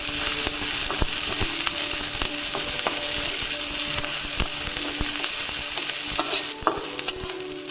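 Cumin, a few garlic cloves and onion frying in oil while being stirred, steady close sizzling with frequent spatula scrapes and taps against the pan, a little louder toward the end.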